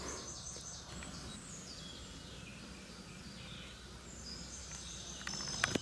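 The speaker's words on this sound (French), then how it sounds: "Il y a énormément de pigeons ramis, de tourterelles et d'oiseaux en tout genre qui vivent dans ces sous-bois." Woodland undergrowth where wood pigeons, turtle doves and many other birds live, with faint distant bird chirps and whistles scattered over a soft, steady background hiss, quiet and far off throughout.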